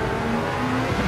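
A low-slung car in a PlayStation VR2 racing game drones steadily with a continuous engine hum and slight pitch rises, loud and alone.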